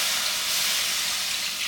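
Vegan gravy being whisked in a hot pan gives off a steady, loud sizzling hiss that holds unbroken throughout, with no distinct whisk strokes standing out and no voices.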